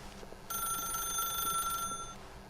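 A telephone rings in the video game The Stanley Parable: one sustained, bright electronic ring lasting about a second and a half. It stands out clearly over a quiet background.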